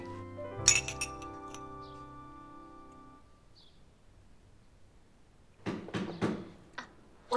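Glasses clink together once in a toast, a bright ringing chime that decays slowly. After a pause come a few softer clinks and knocks, in a quiet room.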